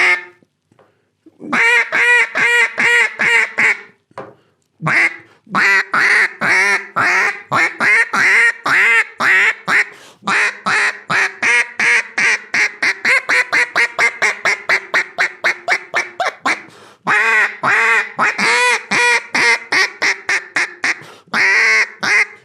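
A handheld duck call mimics mallard duck quacks in long, loud, rhythmic sequences of rapid quacks, close up, with brief pauses between runs and no talking.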